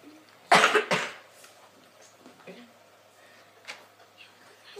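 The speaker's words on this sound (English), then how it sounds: "Sorry about the cough I have" A person with a cough, playing Plants vs Zombies Garden Warfare, gives two sharp, loud coughs close to the microphone, followed by faint throat noises and quiet shuffling.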